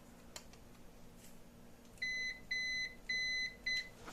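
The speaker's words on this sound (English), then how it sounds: "set the multimeter to continuity" A multimeter set to continuity, used while repairing an LCD TV panel, gives four short electronic beeps in an uneven run, clear and close over a quiet background.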